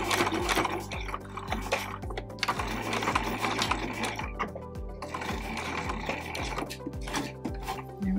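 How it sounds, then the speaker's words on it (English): A sewing machine back-stitches over its original stitches on a tiny 1/12th-scale dollhouse mini quilt, a steady run of rapid needle thumps that pauses and reverses, close and alone without talk. "what I want to do is just go over my original stitches a couple times and then reverse"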